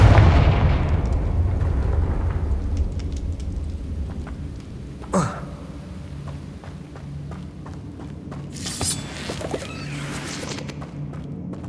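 Confringo blasting spell explosion in the Hogwarts Legacy video game, a sharp burst erupting around the middle over a steady rumbling game soundscape, followed by a brighter crackling flare near the end.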